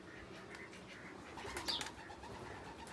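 Pigeons at a bird garden in Riyadh coo softly under steady background noise, faint and somewhat distant, with a brief brighter call near the middle.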